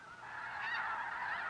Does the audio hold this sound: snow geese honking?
yes